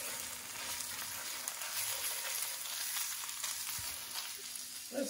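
Pepperoni and tomato paste fry in a pan with a dense, steady sizzle and faint occasional stirring scrapes, heard close and fairly quiet with no voices.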